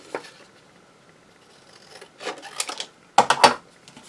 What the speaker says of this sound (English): Let me cut out this card. Just to fussy cut the camera.